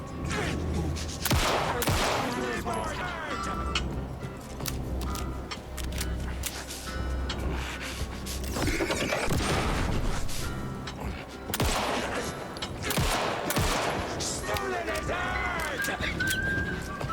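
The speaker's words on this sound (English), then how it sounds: "Gunshot sounds pretty good." Bursts of gunfire crack repeatedly through a video game trailer shown at Summer Game Fest 2023, mixed with voices, whooshes and other action effects at a steady, busy level.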